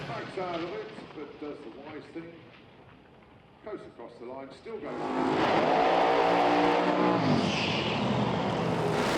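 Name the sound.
Pro Mod drag racing car launching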